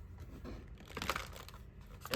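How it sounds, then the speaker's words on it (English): Sheets of paper are shuffled close by, making soft rustles and crinkles in uneven bursts, with a sharper papery scrape at the end. "So I'm gonna just shuffle these right here"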